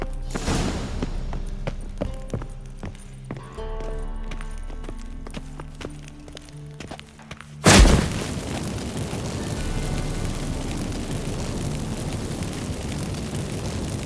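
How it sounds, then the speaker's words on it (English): Magic fireworks set off by burning incense in the video game The Witcher 3: a sudden loud blast cuts through a quiet tonal passage, then gives way to a steady roaring, crackling hiss that lasts several seconds. "Get ready for some magic fireworks."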